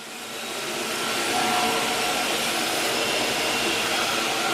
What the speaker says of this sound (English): And the machine will drive itself.